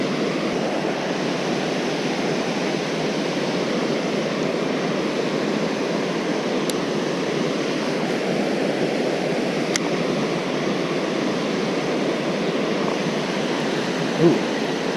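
Steady broadband rush of flowing river water at a freshwater fishing spot, continuous and fairly loud throughout, with a couple of faint clicks and a small knock near the end.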